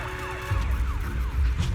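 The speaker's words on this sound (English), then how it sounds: "Inspector Bringer's car has arrived." Police car siren in the game Zenless Zone Zero, a wailing tone sweeping up and down over a low rumble as the vehicle pulls up, steady and fairly loud throughout.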